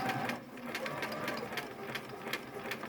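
Sewing machine stitching seams during a sewing class, a steady mechanical whir with rapid regular needle ticks, running continuously at close range.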